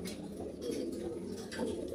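Pigeons coo steadily in a pigeon loft, low soft calls layered close together over a constant background hum.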